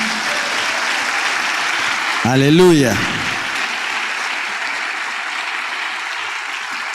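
A church congregation applauds strongly and steadily at an evening service, with a single voice briefly calling out over the clapping partway through.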